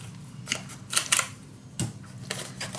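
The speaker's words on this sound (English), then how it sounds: "And again, use that corner punch." A corner punch snipping paper for a scrapbook mini album, giving a few sharp, close clicks and crunches spaced over a couple of seconds, with a quiet room behind them.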